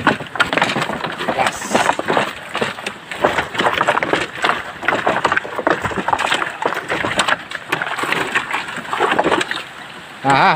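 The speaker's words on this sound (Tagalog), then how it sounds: "Hirapan dito ng konti yung ating kalabaw." A carabao wades through a river, with continuous loud splashing and sloshing water close by over the whole stretch, and faint voices mixed underneath.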